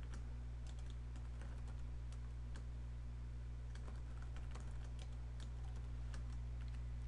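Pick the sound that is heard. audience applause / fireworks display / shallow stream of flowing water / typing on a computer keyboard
typing on a computer keyboard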